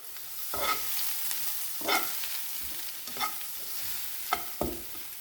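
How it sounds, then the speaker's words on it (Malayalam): Shallots, dried red chillies and curry leaves frying in hot oil, a soft steady sizzle broken by five sharp spatula scrapes and stirs at roughly even intervals, no voices. "ചുവന്നുള്ളി വറ്റമുളക് കറിവേപ്പില നമുക്ക് അരിപ്പ് മുപ്പിക്കാം"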